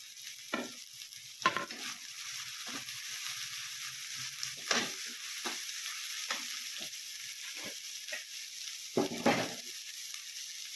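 Cabbage and carrot for momo filling sauté in a pan, a faint steady sizzle broken by intermittent scrapes and clinks of stirring, with no talking.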